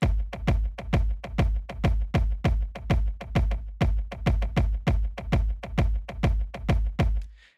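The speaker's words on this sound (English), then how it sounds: "And then I'm adding ghost kicks, which are at a lower volume here on the in-betweens." Layered kick drums in a New York flex beat pound in a steady, fast pattern, with quieter ghost kicks slipped between the main hits, looping for several bars before cutting off.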